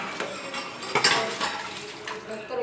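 Dishes and pots are handled for washing after dinner, with repeated metallic clinks and clatters, one sharper knock near the middle, against a busy room background.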